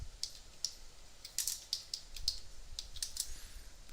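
Light, quick keystrokes on a computer keyboard in uneven clusters, soft and close over a faint background hum, with no voices.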